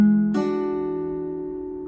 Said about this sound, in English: So you're going to pluck your 5th string, and then your 4th string, and then 2nd and 3rd string together.